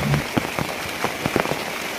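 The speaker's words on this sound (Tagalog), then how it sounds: "ulan naman gyud kusog kayo ang ulan" Heavy rain patters on a surface, with a dense continuous hiss and scattered louder drop impacts, steady and close throughout.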